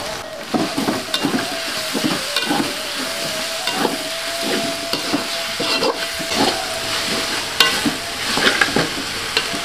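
Chili paste with spices stir-fried for ayam koto gadang, a loud, steady sizzle broken by repeated scraping stirs throughout, close up with no talk.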